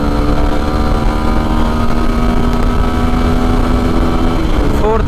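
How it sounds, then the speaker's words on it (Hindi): A Suzuki Gixxer SF250 250cc motorcycle engine drones steadily and loudly while pulling through the gears, its pitch shifting sharply near the end as it changes gear. "अभी खींचेंगे इसको, फर्स्ट गियर में 51 जाती है, सेकंड गियर में 76,"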